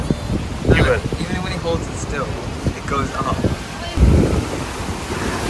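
Waves wash against the shore of a large, deep lake in Switzerland, sounding like sea surf, a steady rushing roar with surges and gusty wind buffeting the microphone, while people talk over it.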